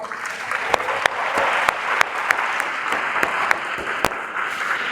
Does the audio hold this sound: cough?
no